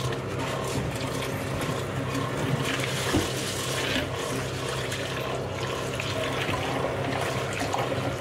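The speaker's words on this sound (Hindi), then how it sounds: "इसको अभी हम साफ़ करेंगे पानी के अंदर।" Two cups of rice are rinsed in water for a desi dish, with steady sloshing, swishing and gentle clinking of grains and water in a vessel, close and continuous, with no talk.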